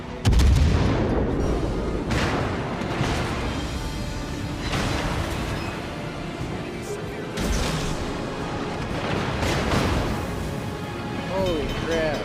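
Naval gunfire from enemy warships in World of Warships pounds away in repeated heavy booms against a dense, constant battle din, with someone talking over much of it.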